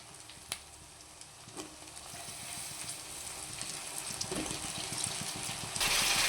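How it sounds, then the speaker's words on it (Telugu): Raw green banana pieces fry in oil over browned onion in a home kitchen, a steady soft sizzle with a few sharp pops and stirring clatters, growing louder near the end. "ఈ అరటికాయ ముక్కలు నూనెలో బాగా యాగాలి"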